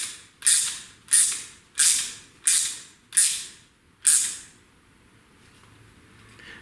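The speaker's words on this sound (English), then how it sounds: "grab a wrench and a ratchet. We just crank her down." Six sharp ratchet strokes crank down a double flare brake tool, each a crisp clicking burst at an even pace, close and loud, followed by quiet.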